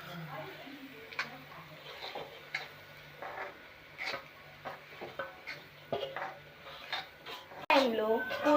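Roasted flour is stirred in a pot, with soft repeated scraping and light taps of a spoon at an even pace, heard under a person talking; a louder clatter comes near the end.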